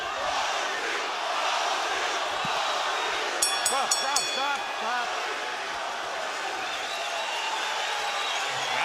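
A boxing crowd at a Sugar Shane Mosley versus Ricardo Mayorga fight roars in a dense, continuous wall of cheering, with a commentator's voice and a shouted word over the din.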